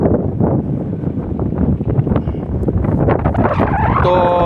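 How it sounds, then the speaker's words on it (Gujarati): Strong wind buffets the microphone in an open farm field, a loud, continuous rumbling roar with gusty fluctuations throughout and a brief brighter tonal whine near the end. "પવન બહુ છે."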